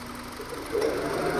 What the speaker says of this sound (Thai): นี่คือเสียงเครื่องยนต์ค่ะ